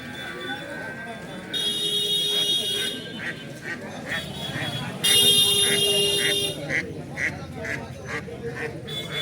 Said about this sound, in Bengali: হাতে তিনটি হাঁস দেখতে পাচ্ছি